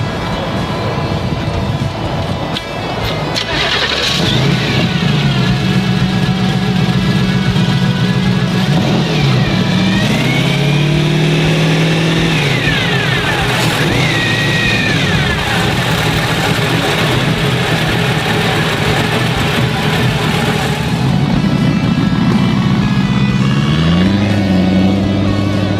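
Supercharged Corvette engine fitted in a car at a classic car show, starting up, idling with a heavy rumble and then revving hard in repeated loud surges, close and continuous.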